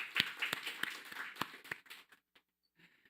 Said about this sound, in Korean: 우리 청소년들 위해서 다시 한번 격려의 박수 부탁드리겠습니다.